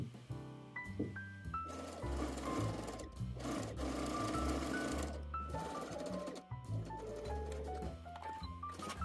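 A sewing machine runs steadily while stitching the inseams of wide-leg, elastic-backed trousers, its motor drone set beneath louder tonal music throughout.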